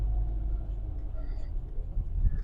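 A JDM Mini car drives along with a low, steady engine rumble and road noise, moderately loud and close, holding an even drone with no sharp changes.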